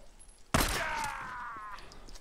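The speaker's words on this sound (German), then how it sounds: "Hier fallen Schüsse!" One abrupt gunshot crack in the video game Days Gone, followed by a ringing, wavering tail that hangs for about a second before thinning out.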